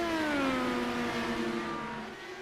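Race cars in a sim racing video game, an Indy series event: high engine whines that fall in pitch as cars pass, loud and close, then fading slightly.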